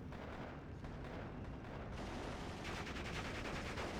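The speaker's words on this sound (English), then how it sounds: "here come the first shells of the barrage any moment here" An artillery barrage in the war strategy game Steel Division 2 rumbles as a continuous, faint wash of distant shell impacts, with dull thuds blending together and no clear pauses.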